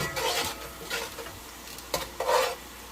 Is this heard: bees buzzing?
no